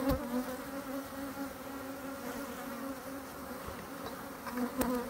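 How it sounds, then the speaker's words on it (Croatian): Honeybees buzzing in an opened beehive, a continuous droning hum from many bees close by, with occasional louder passes as individual bees fly near. "Znači ovdje pčele ima."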